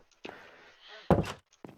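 A door is pulled open in a game village, giving a soft creak followed by a heavy thunk near the microphone, then a lighter knock as it settles.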